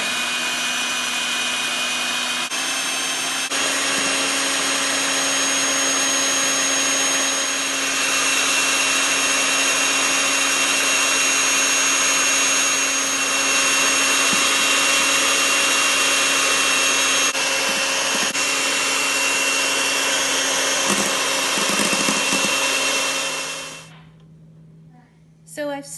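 An electric mixer whips meringue for lemon meringue pie while white sugar goes in a tablespoon at a time, giving a steady, loud motor whir that holds for about 24 seconds before cutting off.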